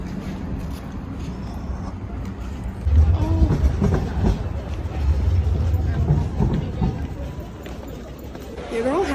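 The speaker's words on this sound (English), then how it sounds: "I'm in the metro" A metro train rolls along with a steady low rumble and rattle filling the background, while someone talks close over it.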